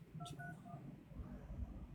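Push-button tones from a cell phone as a number is keyed in, a few short beeps in quick succession, faint under background room noise.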